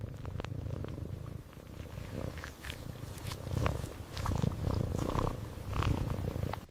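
A cat purring steadily up close in an AI-generated Veo 3.1 scene, a continuous low rumble swelling and easing in rhythmic waves with a few faint soft clicks, no talking.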